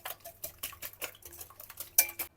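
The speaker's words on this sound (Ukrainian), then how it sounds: "Трішечки ванільного цукру, 5 грам. Треба буде 5 грам ванільного цукру, так і взбиваємо яйця." A whisk beats eggs with vanilla sugar in a bowl, rapid rhythmic metallic clicks and taps close by, about a dozen quick strokes in a few seconds, with no one talking.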